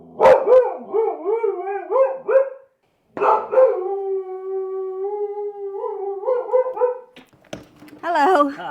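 A dog reacts to a delivery arrival at home with loud, close, drawn-out howling barks and yips in several long bursts, voices faintly mixed in near the end.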